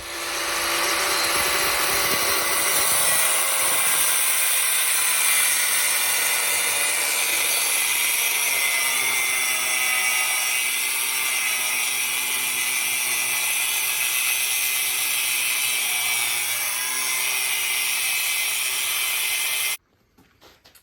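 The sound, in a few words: angle grinder cutting disc slicing rock guard material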